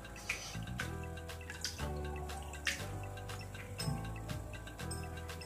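Chena (fresh cheese curds) being rinsed with water in a kitchen to wash out vinegar, giving steady close splashing and trickling with scattered clinks and taps throughout, no talking.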